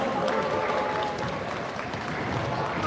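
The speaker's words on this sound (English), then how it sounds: "Let's get a round of applause." A round of applause rises from the audience at an FTC Into the Deep robotics competition in San Jose, dense and steady clapping filling the hall for the full few seconds, no voices standing out.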